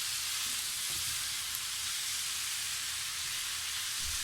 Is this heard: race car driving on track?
no